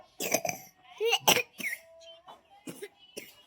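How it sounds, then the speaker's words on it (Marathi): A few short, harsh coughs in quick succession at close range, separated by quiet pauses. "खोकला येतो"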